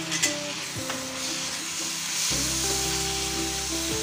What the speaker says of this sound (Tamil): தக்காளி கொஞ்சம் சாஃப்ட் ஆகிற வரைக்கும் வதங்கட்டும்.